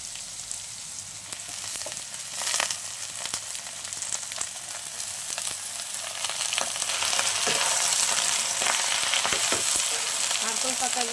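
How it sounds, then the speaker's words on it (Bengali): Taro stems and kharkun leaves fry in a pan, a continuous close sizzle that grows louder and denser midway, broken by scraping and clinking as a spatula stirs them. "ডাঁটিগুলো দিয়ে আমি একটু নেড়ে চেড়ে ভেজে নেবো।"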